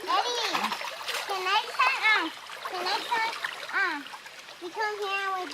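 A child splashes in brook water during trout fishing in Minnesota; a steady wash of water runs beneath almost constant high-pitched child chatter.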